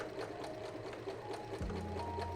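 A sewing machine runs steadily, stitching a zigzag edge on fabric, its close, continuous motor hum and rapid needle rhythm shifting slightly in pitch partway through, with no voices.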